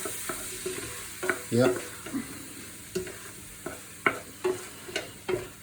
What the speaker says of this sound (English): we want 25 grams of flour in there, and we're going to cook that for a little bit